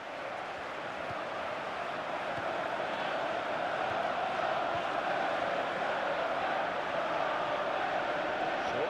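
Crowd in the EA Sports FC football video game, a steady wash of stadium crowd noise, broad, continuous and fairly loud from start to finish, with no distinct claps standing out.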